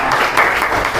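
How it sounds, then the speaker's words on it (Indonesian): A classroom of students applauds a classmate with dense, steady clapping that stays loud and close throughout. "Tepuk tangan untuk Bung Dewi."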